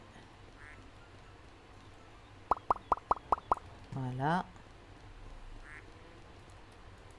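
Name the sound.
ducks quacking in Farming & Supermarket Simulator video game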